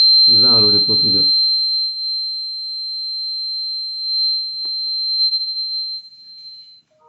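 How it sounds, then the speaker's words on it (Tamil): A water tank overflow alarm buzzer emits a steady, piercing high-pitched tone that holds unbroken for nearly seven seconds before cutting off, with someone talking briefly over its start. "கூடவே பஸர் சவுண்டும் வருது"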